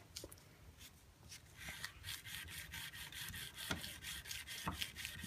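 Steady back-and-forth scraping of sandpaper worked by hand along a knife blade at a fixed grit, a continuous gritty rubbing with regular strokes close up and moderately loud, with no talking.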